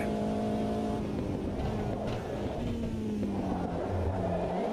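A race car engine in the sim racing game Automobilista 2 drones steadily and loudly throughout, its pitch sliding down and back up through gear and throttle changes, with tire and track noise mixed underneath and no talk.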